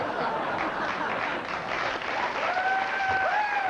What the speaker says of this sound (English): You shouldn't applaud that.